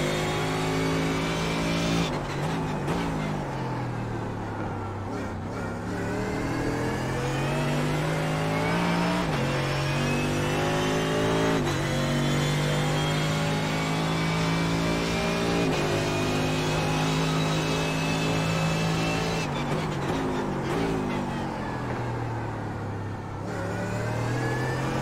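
Mercedes GT3 race car engine at Barber Motorsports Park in iRacing, a loud steady drone that rises and falls with throttle and gear changes, heard close from the cockpit with no talk.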